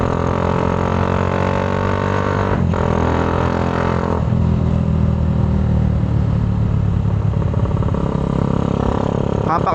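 A Honda Wave100 motorcycle engine running loud and close, a rough sustained drone with a couple of brief dips and revs, a voice occasionally heard beneath it.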